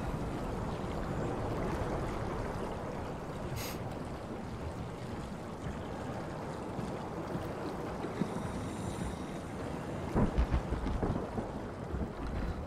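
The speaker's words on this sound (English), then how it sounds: "it sounds like there's a thunderstorm in the bottom of the ocean" Deep, continuous rumbling roar like an underwater thunderstorm in the game SOMA, a steady broadband wash with a few brief louder swells, no voices.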